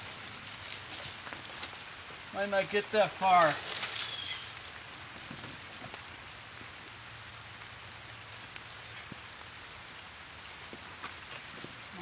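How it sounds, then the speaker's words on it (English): Light rain pattering on leaves and ground in the woods during a bushcraft outing, a soft, continuous patter with scattered drops, under brief nearby talk from a man. "It's starting to rain again."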